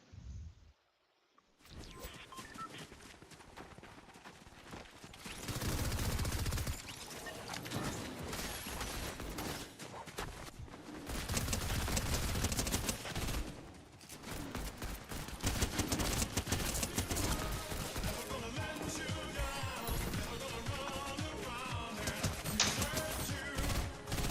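Rapid bursts of gunfire in the video game Fortnite during a stream with friends, dense mechanical rattling and repeated shots filling most of the stretch after a brief quiet start, loud and continuous.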